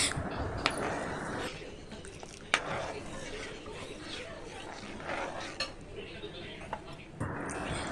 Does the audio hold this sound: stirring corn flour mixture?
yes